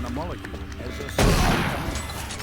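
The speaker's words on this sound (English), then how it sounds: "Sorry, I can't hear you because of all the shooting." Gunfire in the Doom 3 video game erupts as a sudden loud burst of shots after a voice, then rattles and decays under continuing speech.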